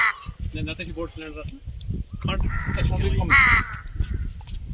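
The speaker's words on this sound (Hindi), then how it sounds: "यहाँ के कौवे भी साले कितने फरी है देखो" Crows in a snowy meadow at Doodhpatri, Kashmir, give several loud, close, harsh caws, some repeated in quick runs, while people talk over them.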